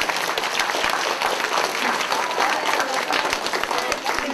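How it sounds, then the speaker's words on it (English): A school assembly audience claps warmly for grade 8 students. Thick, continuous applause fills the room at a steady level throughout, with scattered crowd voices mixed in. "give an applause to all of the grade 8 students for working so hard"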